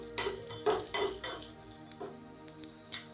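Cashews and raisins frying in ghee in a pan for sweet pongal, with several sharp spoon scrapes and stirs over a soft sizzle, strong at first and then tapering off.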